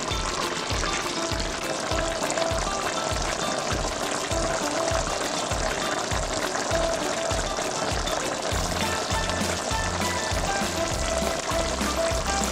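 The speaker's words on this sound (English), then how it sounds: "as you can see, it's bubbling" Cassareep chicken stew bubbling and sizzling steadily in a pot over lowered heat, a continuous close crackle with a regular low popping rhythm, no voices.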